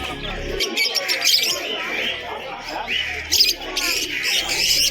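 Budgerigars of various colours, including sky blue, green and yellow, chirp and tweet steadily from cages at Birnagar village market, a dense, busy chatter with a few louder bursts and some voices in the background.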